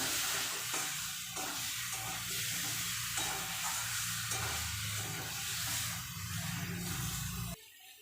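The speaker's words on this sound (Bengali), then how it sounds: "আলু দিয়ে মশলা দিয়ে ভালো করে কষানো হয়ে গেছে দেখতেই পাচ্ছ তেল ছেড়ে দিয়েছে" Potatoes and spices sauté in a little oil in a pan, with a continuous sizzle and repeated scraping stir strokes up close, until the sound cuts off abruptly near the end.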